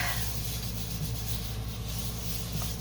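Paper being rubbed by hand against a gelli plate printing surface, a steady soft scuffing hiss that runs continuously and fairly close, with no talk over it.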